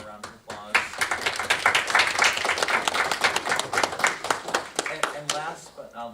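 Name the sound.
audience applause at town board meeting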